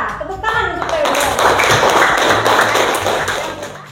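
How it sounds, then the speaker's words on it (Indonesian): Students in a classroom applaud a classmate's presentation, a steady burst of clapping from many hands that lasts several seconds, with a teacher's and children's voices mixed in. "Tepuk tangan untuk Theodora."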